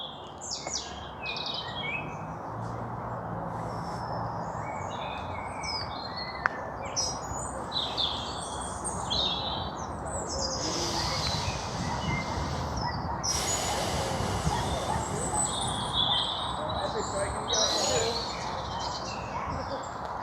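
Birds chirping and calling outdoors during a walking meditation, several bright tweets and short songs scattered over a steady broadband ambient hiss, moderately near, with no talking.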